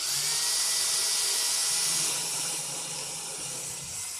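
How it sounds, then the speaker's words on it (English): A power drill whines steadily at close range drilling through a gourd, a high buzzing hum that eases slightly partway through, with no voices. "we're going to drill a hole all the way through this"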